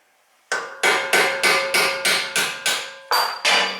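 Nine sharp, evenly spaced hammer blows ring out on a punch set against a front strut bolt of a VW MK6 Golf. Each metallic strike is loud and close and decays quickly before the next.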